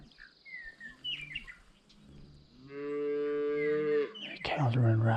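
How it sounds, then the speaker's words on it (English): A herd of cattle in a Nebraska field moos loudly in long, close bellows, with small birds chirping and rustling movement around them as the animals run. "The cows are running right through the turkey."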